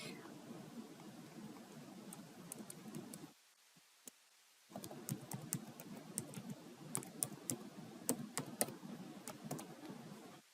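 Someone types a new password on a computer keyboard: a steady run of quick, close key clicks over a low room hum. The clicks stop for about a second, then the typing resumes with sharper, irregular taps.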